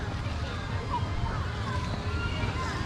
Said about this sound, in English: This is their little water area, splash park